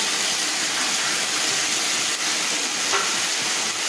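Soaked chickpeas hit a hot pan, setting off a loud, dense, continuous hiss of sizzling oil that holds steady the whole time.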